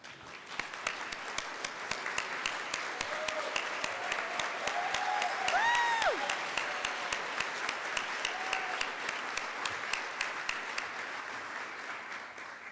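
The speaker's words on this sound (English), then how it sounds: "another round of applause" Sustained applause from a large crowd fills the room steadily, with a few faint whoops rising briefly midway.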